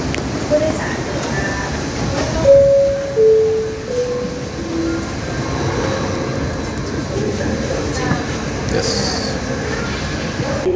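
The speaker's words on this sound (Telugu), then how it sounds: "ట్రైన్ వచ్చింది ఇప్పుడే" An underground Bangkok metro train pulls into Silom station with a steady low rumble and a brief squeal, loud and close, while a voice talks over it.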